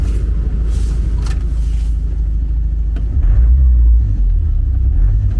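Caravan engine idling after an oil change and service, a loud, steady low rumble that swells slightly partway through, with faint clanks over it and no talking.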